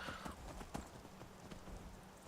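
Horse hooves clip-clopping in steady rhythm while riding in the video game Skyrim, a clear repeating gait of thuds at moderate volume with faint background ambience.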